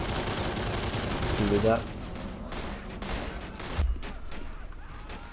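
Bursts of MG40 machine gun fire in a video game bridge assault, loud broadband rattling that comes and goes under a player's talk.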